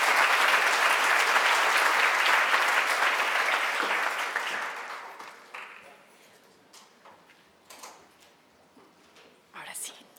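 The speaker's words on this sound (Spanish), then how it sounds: "Agradezcámosle a nuestros panelistas con un aplauso." A seminar audience applauds panelists after a discussion on packaging waste policy, loud crowded clapping that fades out after about five seconds, followed by quieter room noise, a few scattered claps, small knocks and movement.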